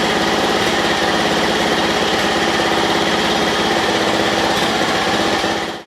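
A Honda 2 hp outboard engine idles loud and close after a carburetor swap, a steady buzzing drone with occasional uneven hunting stumbles in the rhythm, cutting off abruptly at the end.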